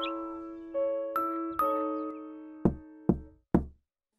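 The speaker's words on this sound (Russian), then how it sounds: "Он постучал в дверь" Knocks on a wooden door in a narrated Russian fairy tale about Little Red Riding Hood, three firm raps spaced evenly and close up, following a few soft chime-like tones, with no talk over them.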